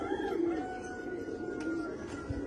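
Paired pigeons coo softly and repeatedly in hot weather, low murmuring calls close by over a faint steady background.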